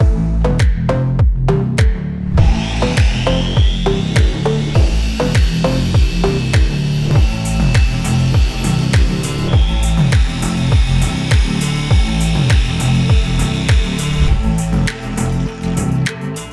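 A dual action polisher doing a heavy cut on the paint of a 2018 Honda Civic, a loud buzzing whir with rhythmic pulsing swells as it is worked across the panel, no talk.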